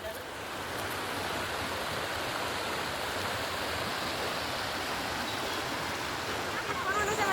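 A stream flows steadily at a constant level throughout, a broad rushing wash of water that starts softly and fills out within the first second, with no voices over it.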